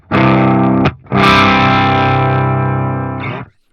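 A guitar played through a distortion pedal emulation on clip mode 2, two loud, heavily driven chords, the first cut short and the second ringing out for over two seconds before stopping.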